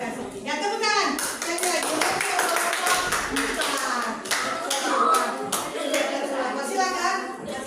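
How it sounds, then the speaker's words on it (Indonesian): A classroom of students clapping hands together after a group presentation, sharp individual claps scattered over a busy stretch, with children's voices and talk running through it. "Ya, tepuk tangan."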